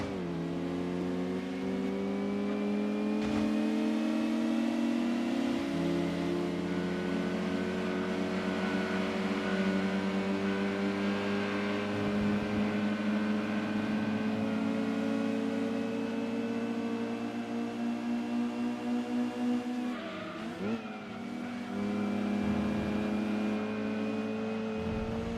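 A Mazda RX-7 race car's engine in Gran Turismo 2 drones at sustained high revs, loud and close, holding a steady rising pitch with a brief dip and gear change near the end, no talk.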